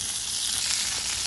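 Garlic and a little Scotch bonnet chilli sizzling in hot fat in a Dutch oven, a close, bright, continuous frying hiss with no voices.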